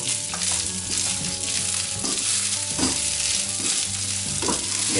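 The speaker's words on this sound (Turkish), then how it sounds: "Yine karıştırıyorum." Ottoman rice pilaf frying in a pan sizzles steadily and loudly while a spoon stirs it with repeated scraping strokes, close up, with no speech.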